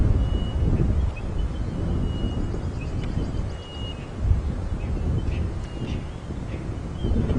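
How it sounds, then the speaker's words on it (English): Wind gusts buffet the microphone in an open vehicle on a morning game drive at Djuma Game Reserve, a steady low rumbling roar that swells and dips, with no voices. "You hear the wind coming through"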